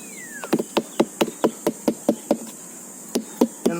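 Hammer strikes pounding kaong, the sugar palm fruit, in a steady rhythm of about a dozen sharp, close knocks with a short pause near the end, played without any talking.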